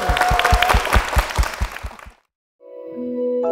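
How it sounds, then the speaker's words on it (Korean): A church congregation claps together in a brisk, steady rhythm for about two seconds, then the applause stops abruptly and sustained organ-like tones follow. "주님께 영광의 박수 올려드리겠습니다."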